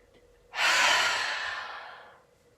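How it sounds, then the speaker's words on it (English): A single long, forceful breath during a belly-pulsing yoga exercise, a close breathy rush lasting about two seconds before fading, with no talking. "you're going to start to pulse the belly. So I'll do it without talking"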